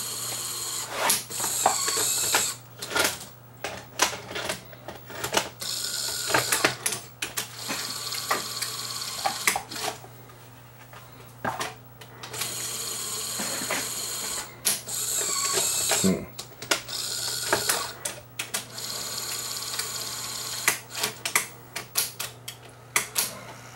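A Sony SL-HF1000 VCR, fitted with a newly changed head drum, loads a tape, giving a long run of close mechanical clicks, ratcheting and whirring gear movements in irregular bursts, with some quiet talking mixed in.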